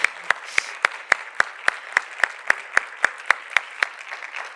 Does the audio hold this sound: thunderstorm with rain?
no